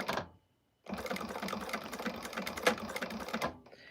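A sewing machine runs in a steady, dense mechanical whir of rapid needle stitching, close and fairly loud, after a short pause; the stitching is for a Primavera bag by Shamballa with a quilted cactus fabric.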